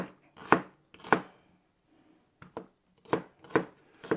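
A knife chops an onion on a board for a Caucasian khashlama stew cooked in a cauldron over a campfire, giving close, crisp chops in irregular clusters with short pauses between.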